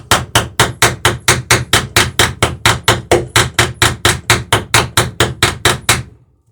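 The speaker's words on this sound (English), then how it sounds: "drilled and drove the rest of the rivets" Rivets being driven into the lapped planks of a wooden boat's port side, a fast, even run of about twenty sharp hammer blows close by, ending abruptly with silence.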